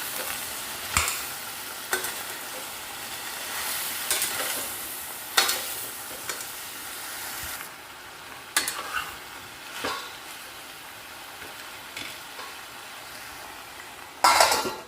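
Eggplant fry with salt and turmeric is stirred in a pan under a constant low sizzle, with recurring spatula scrapes and knocks at irregular intervals and a louder clatter at the end, close by and without talk.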